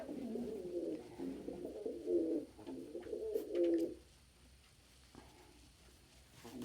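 A pigeon coos in a soft, close series of rolling, throaty phrases for about four seconds, then falls quiet amid faint room sounds and a few small taps.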